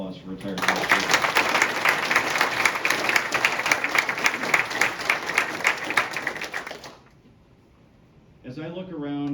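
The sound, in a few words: audience applause at investiture ceremony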